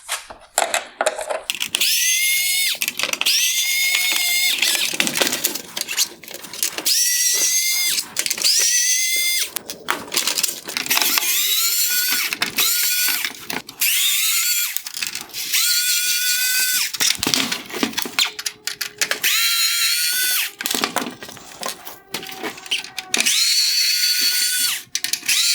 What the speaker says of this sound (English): I will begin by removing the T20 screws holding the trim pieces in place.